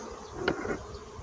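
Honeybees buzz around a beehive, a steady close hum of many insects with one brief louder pass.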